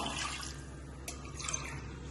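Water is poured into old rice in a pressure cooker pot for sweet white sugar pongal, five tumblers' worth; a soft, steady splashing flow, faint and close, with no talk.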